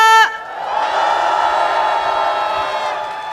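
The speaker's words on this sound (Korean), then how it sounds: "다시 한번 뜨거운 박수와 함성 부탁드립니다" A large crowd at a political impeachment rally cheers and applauds in a sustained roar that swells after a brief opening tone, a dense wash of voices and clapping.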